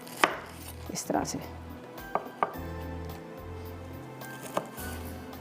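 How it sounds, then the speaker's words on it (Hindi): A knife chops fried soya nuggets on a board in a home kitchen, making several sharp, irregular thuds close by. Someone speaks briefly between the cuts. "यहाँ पर एक नगेट्स को चॉप कीजिएगा"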